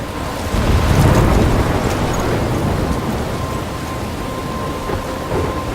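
Thunderstorm with heavy rain in the video game Life Is Strange near a lighthouse, a deep rolling rumble of thunder swelling early over a steady loud wash of rain that continues throughout, no talking.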